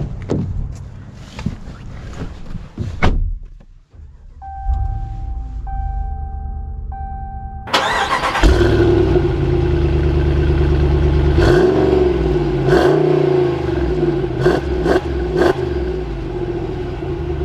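A 2021 Ram 2500 Tradesman pickup with a 6.4 Hemi V8 cranks and fires up, then settles into a loud, deep idle and rumble that continues steadily as the truck pulls away, heard from inside the cab.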